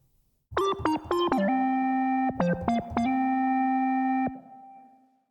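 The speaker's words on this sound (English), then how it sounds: "Also, I added some nice convolution reverb here." A synth lead from Maschine with convolution reverb plays a melodic phrase of quick stepped notes and long sustained tones in G minor, ending in a soft reverb tail that fades out, loud and without any voices.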